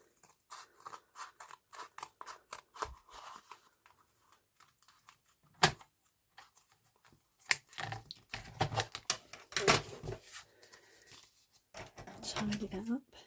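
Scissors gently snip through paper between paper clips for journaling tags, a scattering of soft, close, intermittent cuts and crisp clicks with pauses in between.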